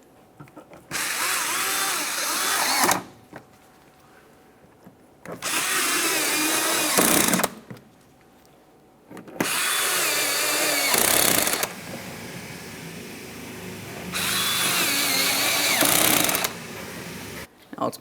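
A power tool drives T15 mounting bolts into the front inner fender liner of a 2017-2023 GMC Acadia, running in four loud bursts of whirring with quiet pauses between them, close up.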